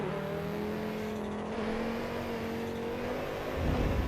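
An all-wheel-drive Audi race car in a racing game holds a steady, droning engine note as it accelerates, with a rougher rumble near the end and no talking over it.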